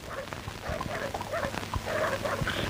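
A dog in a drama scene gives short whimpering yips and barks amid a bustle of voices and commotion, close and fairly loud.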